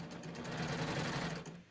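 A sewing machine stitching a cover hem runs in a fast, even, continuous whir, close and steady for the whole short stretch with no talking.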